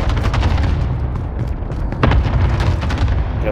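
Loud, dense gunfire in the video game Warzone, with rapid overlapping shots and booming reports sustained throughout, close and heavy.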